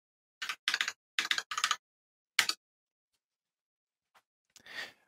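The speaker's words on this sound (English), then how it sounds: "So here I'm going to be typing my phone number." Phone number typed on a computer keyboard in short bursts of quick clacking keystrokes, five clusters over two seconds, then a lone burst and a few faint taps after a pause, close and clear with no talking.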